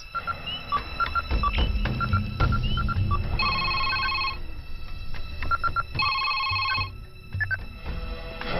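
A telephone rings in a comedy film scene, sounding repeated bursts of electronic trilling in two spaced groups. Faint room noise and low rumbles run underneath at moderate volume.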